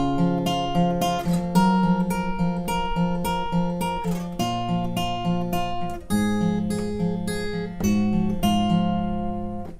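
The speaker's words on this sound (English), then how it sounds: "the first bit of this verse / intro riff will sound like this." Acoustic guitar playing the verse and intro riff of a song, with ringing picked notes and repeated chord shapes in a steady rhythm, close and clear with no voice.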